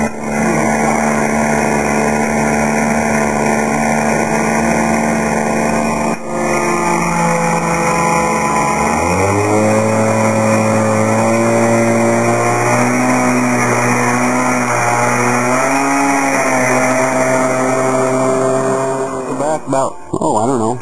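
A radio-controlled model airplane engine drones in flight, a sustained buzzing whine that shifts pitch up and down as it passes, loud throughout with no talk.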